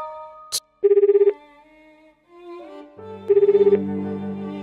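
Telephone rings in the video game CRYSTAR: two bursts of rapid electronic bell trills, separated by a pause, over soft sustained game music tones, preceded by a brief sharp blip.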